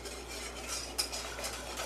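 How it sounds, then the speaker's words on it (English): Flour whisked into warm milk and butter in a pot for mac and cheese sauce, a soft continuous swishing and stirring with a faint clink of the whisk. "Whisk it up."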